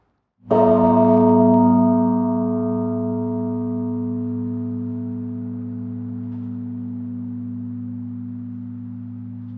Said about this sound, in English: here is the incredible voice of this bell